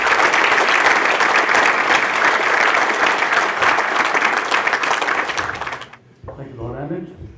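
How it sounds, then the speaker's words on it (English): A large audience at an event on UK–Pakistan military relations gives a massive round of applause for the Pakistan Army, loud and sustained for about six seconds before it cuts off and a voice begins speaking. "So a massive round of applause for Pakistan Army and the"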